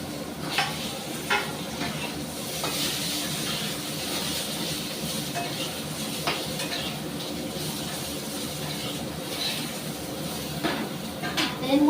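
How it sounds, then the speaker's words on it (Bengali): Pointed gourd pieces frying in oil, a loud continuous crackling sizzle throughout with repeated scraping and clinking of a spatula stirring the pan. "পটলটাকে আমি লাল করে ভেজে নেব।"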